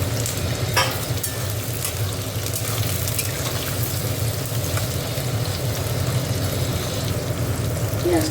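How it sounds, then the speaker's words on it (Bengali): Onions frying in hot oil in a pan, a loud, continuous crackling sizzle with steady low rumble and occasional stirring scrapes, no voices. "পেঁয়াজটা একটু ভাজা ভাজা হোক।"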